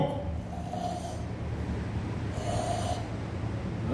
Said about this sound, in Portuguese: Ronco.